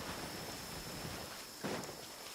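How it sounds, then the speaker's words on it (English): Heavy rain hisses steadily in the Genshin Impact game world, a faint continuous wash of drops with a soft thump near the end. "This heavy rain must be quite an inconvenience for you."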